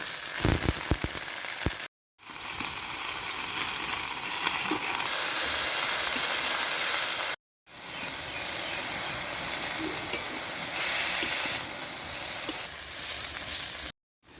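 Gima greens (water spinach) frying in a pan, a steady loud sizzle and hiss with stirring, broken by a couple of brief silent gaps.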